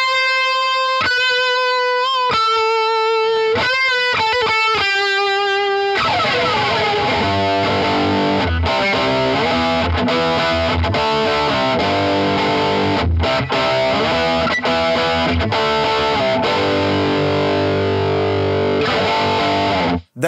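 Electric guitar dialed in for a classic rock tone, with a subtle chorus adding gentle motion. Clean picked arpeggiated chords open, then loud, heavily distorted sustained chords take over, played alone without talk.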